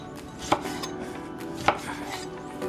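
A knife chops tomatoes into bite-sized pieces for a farm salad, with two sharp, distinct cuts against a board spaced about a second apart and quieter kitchen handling around them.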